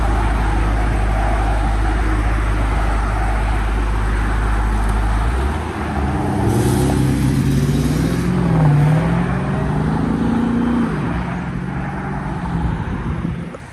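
A Dodge Demon pulls away from a car meet outside a diner, a heavy low idle giving way to a loud rising engine note that swells and fades as the car drives off.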